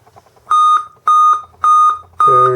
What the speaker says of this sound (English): That's a bunch of beeps.